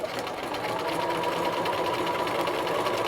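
A sewing machine back stitches a raglan sleeve seam, a fast, steady mechanical whir with rapid needle chatter, close and continuous, no talking.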